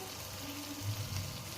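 Onion, garlic and ginger frying in a pan for crab masala, a steady soft sizzle with faint crackles throughout, no talk.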